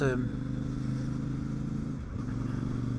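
A CF Moto 450MT motorcycle engine runs steadily at close range, giving a constant low drone that dips briefly before settling again.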